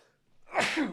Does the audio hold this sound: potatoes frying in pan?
no